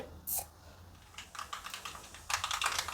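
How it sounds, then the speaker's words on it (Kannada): Mustard seeds splutter in about three tablespoons of hot oil for a buttermilk rasam tempering, giving a quiet stream of rapid crackles and pops that thicken toward the end, with one brief louder hiss near the start. "ಸಾಸಿವೆ ಸಿಡಿತಾ ಇದೆ"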